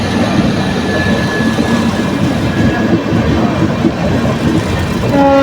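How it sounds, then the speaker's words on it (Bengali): The Puri Howrah Shatabdi Express passes close by, with a loud, continuous rumble and rhythmic wheel clatter on the rails, and a horn-like tone rising at the very end. "পুরী হাওড়া শতাব্দী এক্সপ্রেস।"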